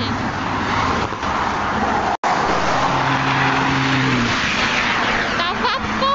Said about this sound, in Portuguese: o carro passando, minha gente